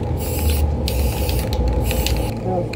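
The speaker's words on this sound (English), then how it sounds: "Spray everything in black." Black spray paint hisses from an aerosol can onto a vertical painting, a steady close spray running throughout with brief rattling pauses and bursts.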